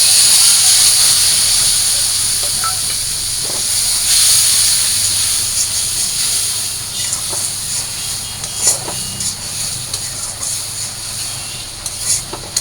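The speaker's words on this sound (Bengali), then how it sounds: "এই যে মাথাগুলো ভাইজা নিচ্ছি।" Fish heads frying in a pan give a loud, steady hiss and sizzle that runs throughout, with scattered crackles and pops growing more frequent toward the end.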